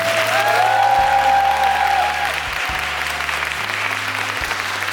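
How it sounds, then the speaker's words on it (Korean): A musical theatre audience gives loud, sustained applause for the company managers after a show, the thick clapping joined by low, steady sustained musical tones underneath, easing slightly in level midway. "항상 뒤에서 노력해주신 우리 컴퍼니 매니저님들 큰 박수 한번 주세요."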